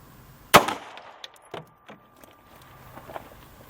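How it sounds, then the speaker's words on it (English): A single sharp .45 ACP pistol shot fired into a ballistics gelatin block rings out once near the start, followed by a few faint clicks and handling noises. "want to shoot my 45 into this one more time, because I haven't ever really shot it in the ballistics gelatin"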